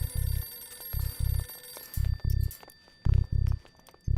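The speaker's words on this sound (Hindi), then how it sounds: "फोन उठाओ जी। फोन उठाओ।" A telephone rings in repeated paired bursts, a steady electronic trill with short pauses between rings, clear and fairly close.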